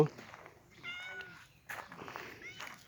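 Meowing from a cat at a Buddhist temple in Chae Hom, Lampang, Thailand, waiting to greet a monk; a few short, fairly close meows with soft footsteps and faint background noise.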